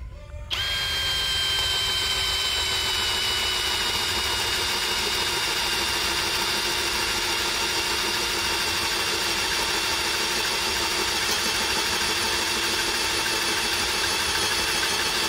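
A cordless drill, either a DCK KDJZ23i or a Makita HP488, runs in drilling mode at speed setting 1, starting with a click and then holding a steady, loud whirring whine close by with no talk.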